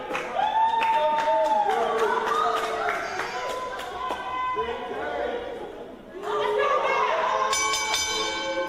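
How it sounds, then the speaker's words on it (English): A ring bell at a professional wrestling match rings out several times in quick strikes over a murmuring crowd, with an announcer talking over it throughout. "Now the bell has rung."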